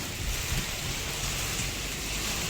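A sudden windy rainstorm breaking over a town in Nanded district, a loud, dense roar of rain with low rumbling wind running continuously and unbroken.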